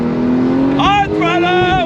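A 2024 Porsche 911 Turbo S engine pulling hard on throttle, heard close and loud from inside the car, its tone climbing sharply in a strong rev and then rising again in a second surge.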